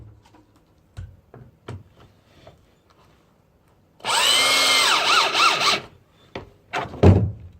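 A power drill drives a screw into a board during assembly of a cat condo, about two seconds of loud, close whirring with a rising and falling pitch, framed by scattered knocks and handling clunks before and after.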